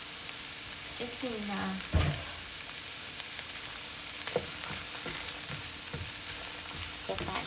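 Onions cooking in butter and leftover meat juice from taco filling, giving a soft, steady sizzle with occasional clatters of a utensil; a voice speaks briefly over it.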